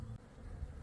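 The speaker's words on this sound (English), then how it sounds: "the bees are doing great here too" Honey bees buzz at a double-deep hive in an early-March apiary, a close, steady droning hum that lasts under a second.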